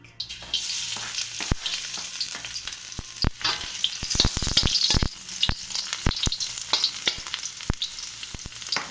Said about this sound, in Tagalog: kapag mainit na yung mantika, lagay na natin ng garlic